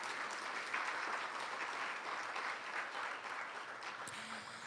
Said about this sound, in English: Ladies and gentlemen, let's give our judges a round of applause.